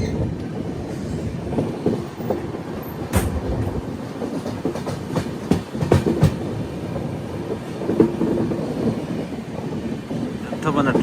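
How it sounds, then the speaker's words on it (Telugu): Rajdhani Express 12426 from Jammu Tawi to New Delhi running, a steady rumbling roar with rhythmic clickety-clack of wheels over rail joints and brief rattles throughout. "మన ట్రైన్ ఇది"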